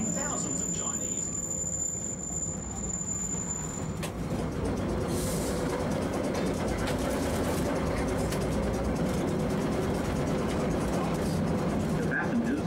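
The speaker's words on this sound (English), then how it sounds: "The passengers who have just joined the vintage floating tram tour, welcome aboard." Vintage tram running on the Bendigo tramway: a steady, continuous rumble of wheels and motor persists throughout at moderate level, with faint squeals and a brief high tone early on.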